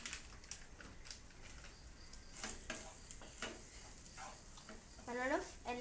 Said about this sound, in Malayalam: നല്ലോണം എല്ലാം ഫ്രൈ ആയിട്ടുണ്ട്.